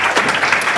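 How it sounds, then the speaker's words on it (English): Audience applause at a business conference on automation and productivity as panelists walk up on stage, a steady dense wash of clapping filling the short moment. "let's give them a warm round of applause as they make their way up on stage."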